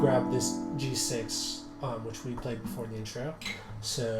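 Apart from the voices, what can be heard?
None of the usual background noises is heard.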